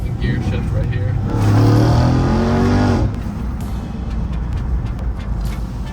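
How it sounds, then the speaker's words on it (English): A RAM TRX pickup truck accelerating hard through a gear shift, its engine rising to a loud roar that drops sharply at the shift, with someone talking over it. "we're going to do a second gear shift right here"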